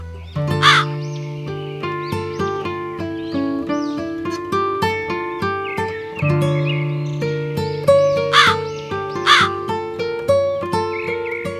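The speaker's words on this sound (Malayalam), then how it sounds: "മോളുടെ നെയ്യപ്പവുമായി കാക്ക നേരെ പോയത് ഒരു കാട്ടിലേക്കാണ്." A crow caws repeatedly in a children's animated story, sharp harsh calls at intervals over a steady, bright musical backing.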